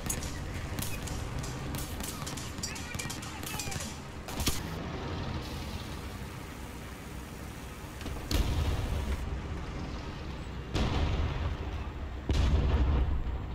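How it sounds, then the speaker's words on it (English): Explosions and gunfire around a StuG assault gun in a tank battle video game, dense booming artillery-like blasts with heavy low rumbles, the loudest surges near 8, 11 and 12.5 seconds over constant engine noise. "Thanks for that gigantic bomb that didn't do anything"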